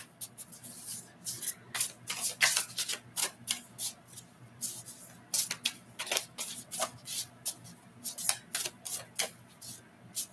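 Tarot cards are shuffled by hand close up, a run of crisp riffling and shuffling bursts in an irregular rhythm over about ten seconds with short pauses between.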